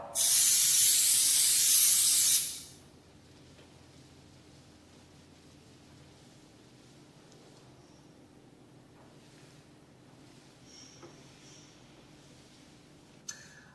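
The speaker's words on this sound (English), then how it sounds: "I'm now going to use our second stage of cleaning, which is our isopropyl alcohol" Isopropyl alcohol cleaner sprayed onto a surface during vehicle wrap film preparation: a loud, steady spray hiss lasting about two seconds, followed by a quiet room with faint background noise and a small click near the end.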